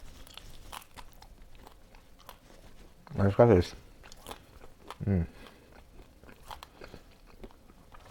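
Crunchy bites of crispy pot-cooked rice crust, two loud crackling chews standing out between quieter mouth sounds while a person talks around them.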